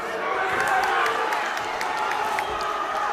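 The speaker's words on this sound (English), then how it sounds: "Crowd on their feet here at the Elephant and Castle." A boxing crowd on its feet at Elephant and Castle during a British 118lb title fight, cheering in a steady loud roar throughout, with a commentator talking over it.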